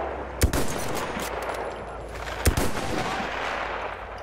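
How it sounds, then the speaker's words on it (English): Enemy machine-gun fire in Battlefield 1: a steady, loud, noisy roar of rapid automatic shots with two heavy close booms standing out, no talk. "Ah, una mitragliatrice nemica!"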